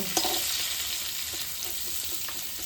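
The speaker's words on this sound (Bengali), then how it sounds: "পটলটা আমি একদম কড়া করে ভাজবো না, একটু হালকা করেই ভেজে নেব" Pointed gourd pieces frying lightly in a pan, producing a brief, soft, even sizzle with a few quiet stirring taps.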